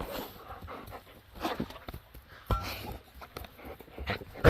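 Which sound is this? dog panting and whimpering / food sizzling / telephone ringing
dog panting and whimpering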